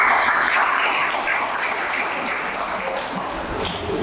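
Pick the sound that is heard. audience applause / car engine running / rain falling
audience applause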